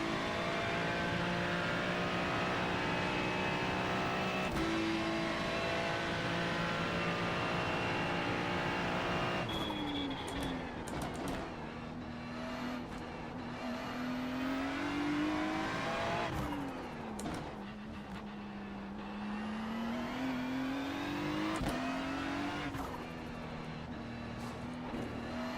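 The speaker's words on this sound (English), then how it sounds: "love the sound of that turbo" Turbocharged car engine revving and accelerating, a moderately loud, rising and falling engine drone through repeated gear changes, with tire noise under it.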